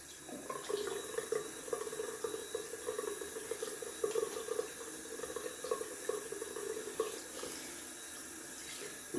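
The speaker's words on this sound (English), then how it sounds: "Just gonna rinse quickly off with cold water." Cold tap water runs steadily into a sink to rinse a YAQi Slant 37 stainless steel safety razor during wet shaving, a continuous close hiss with slight splashing variations and no talking.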